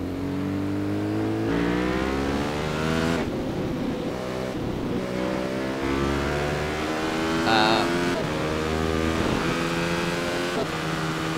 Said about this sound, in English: You might hear me hitting the limiter there.